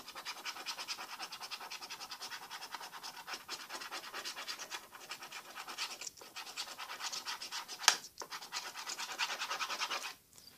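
A 3-in-1 scratchcard is scratched in quick repeated strokes, a dry rasping that runs steadily and close up, broken by a few short pauses and one sharper scrape near the end.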